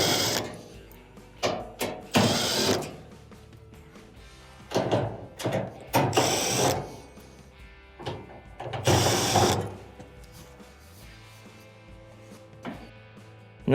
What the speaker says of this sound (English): we have multiple Phillips screws on the bulkhead to take it out